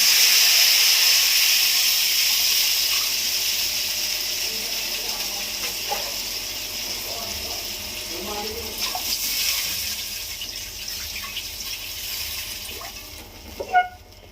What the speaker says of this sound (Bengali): এবার আমি জল দেব জল দিয়ে দিলাম